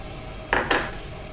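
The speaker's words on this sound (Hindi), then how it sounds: "मैंने एक ले लिया अंडा, इसको हम फेंटेंगे।" Two quick metallic clinks of a utensil against a bowl while an egg is beaten for shami kabab mixture, close and fairly soft, with no talk over them.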